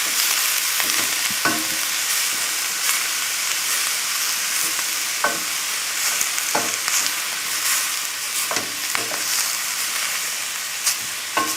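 Vegetables cook over a high flame in a pot for red and great northern beans with ham and turkey, giving a constant loud sizzle with periodic stirring scrapes and knocks close by.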